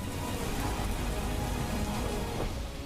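Heavy rain pours over flooded streets in Dwarka, a dense, continuous and unbroken hiss with no voices.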